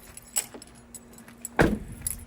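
A set of keys jangles nearby, with a light metallic shake early on and a louder, fuller rattle of keys being grabbed partway through, alone with no speech.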